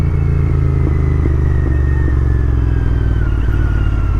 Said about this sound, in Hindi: क्या खिंचती है यार ये बाइक।